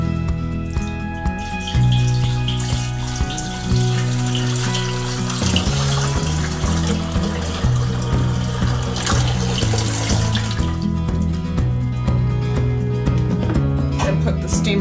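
Tap water runs steadily into a pot in a home kitchen, filling about an inch for steaming potatoes, a continuous close rush with a changing pitch as the level rises, under background talk.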